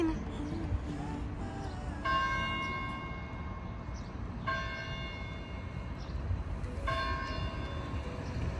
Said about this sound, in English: It's 3 o'clock and the bells start ringing.